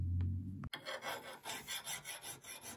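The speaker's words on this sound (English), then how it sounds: "So I just file this down here. I use the coarse side first and then I'll use the fine side" A coarse metal file rasps across the steel head of a vintage Craftsman hatchet in steady back-and-forth strokes, about a dozen rhythmic passes, close and clear after a brief low hum at the start.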